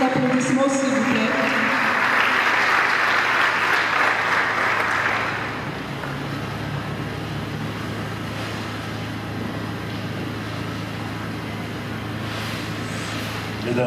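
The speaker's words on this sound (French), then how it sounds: "Vos applaudissements, s'il vous plaît." An audience applauds at a company launch event in the Democratic Republic of the Congo, dense clapping for about five seconds that then drops to a lower murmur with a steady hum.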